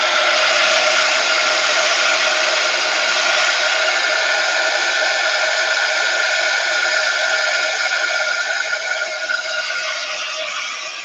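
A hair dryer blows steadily to dry wet paint, a loud constant whooshing hum that runs throughout and eases slightly at the end, with no talking.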